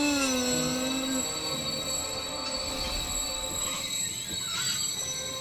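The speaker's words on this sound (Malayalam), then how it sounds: "എനിക്കിപ്പോ ട്രെയിൻ നിർത്തിയേ പറ്റൂ." A running train in a Motu Patlu cartoon gives a steady rolling rumble with high, drawn-out wheel squeals layered on top. It stays loud and continuous throughout, with no voices.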